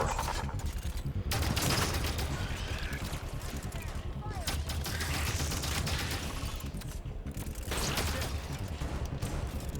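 Suppressor gunfire in the video game Halo 5: Guardians comes as dense, continuous muffled shots mixed with game effects, while someone talks over it throughout.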